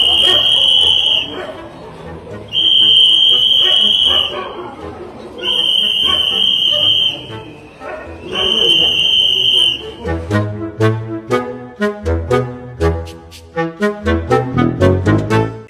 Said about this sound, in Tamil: விசில் சத்தம்.